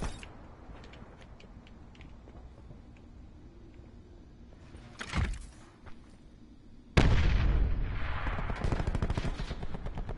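Video game gunfire erupts in a loud burst near the middle, then a sharp, heavy volley of rapid shots and blasts fills the second half close up, with no talking.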